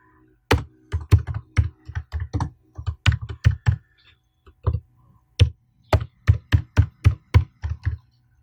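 Someone types a project name on a computer keyboard in short, quick bursts of crisp keystrokes with brief pauses between, close and clear against near silence.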